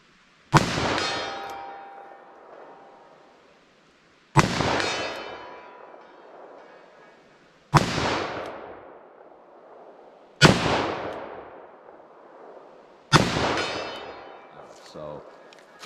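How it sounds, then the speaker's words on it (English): A .44 Magnum fired from an L-frame revolver at a steel target outdoors: five loud, sharp shots spaced a few seconds apart, each with a booming echo decaying into silence. "44 Magnum in general is not pleasant to shoot out of this L-frame revolver"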